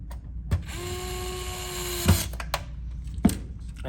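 Small screws are driven into a PS4 console during an HDMI port repair, with a close, high electric screwdriver whine running for about a second and a few sharp clicks and knocks around it.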